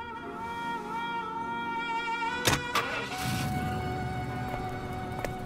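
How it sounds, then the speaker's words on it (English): A car engine idles steadily and fairly close, with a short mechanical clunk partway through before the low running hum carries on. "There's a car waiting outside for you."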